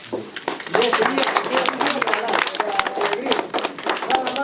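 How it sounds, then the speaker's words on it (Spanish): Guests at a birthday celebration in San Juan de Paltarumi, Peru, break into strong, dense applause, with voices speaking and calling out over the clapping throughout. "les pido un fuerte aplauso"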